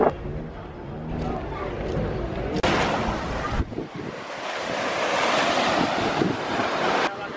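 Sea waves breaking on the beach at Es Arenals, Formentera, a steady surf wash with wind buffeting the microphone throughout, the roar swelling louder in the second half.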